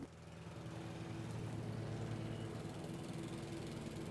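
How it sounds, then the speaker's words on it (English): A lawn mower runs outside beyond a window, a faint steady engine drone heard through the glass at low volume, continuous with no change in pitch. "And there's someone mowing the lawn outside of my window."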